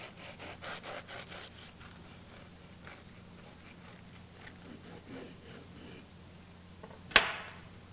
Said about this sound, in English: We're just gonna slice it diagonally.